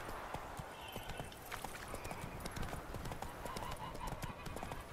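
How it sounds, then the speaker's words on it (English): A horse's hooves clip-clop at a steady walking rhythm in the video game The Witcher 3: Hearts of Stone, faint and even, with a possible short neigh mixed in. "There's a horse."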